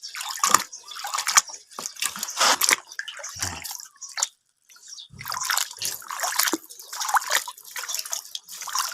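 Water splashes and trickles in uneven bursts over an uprooted aloe vera plant as it is rinsed, with one short pause midway and close, irregular dripping throughout.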